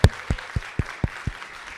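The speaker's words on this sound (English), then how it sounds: "Can we give him a round of applause, ladies and gentlemen?" Clapping at a Bay Area hip hop archives launch: about six sharp, evenly spaced claps roughly a quarter second apart, close and distinct over a quiet background, with no voices.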